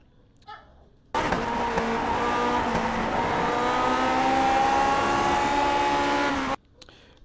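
A Lotus 49 racing car in the iRacing sim at Motegi screams at high revs for several seconds, a steady loud engine whine with rising pitch that cuts off abruptly.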